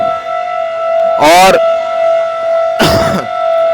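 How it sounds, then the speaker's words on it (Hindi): A civil defense siren over New Delhi holds a loud, steady wailing tone across the whole stretch, while someone speaks over it in two short bursts. "ये सायरन इतनी तेज़ है कि दूर दूर तक सुनाई दे"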